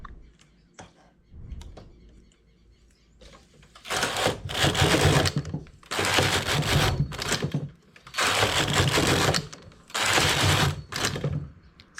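A knitting machine working a sea foam stitch variation with needles selected four by four, its carriage making several loud mechanical rattling passes with short pauses between them, slightly irregular as the machine misfires a little; faint sounds before the first pass.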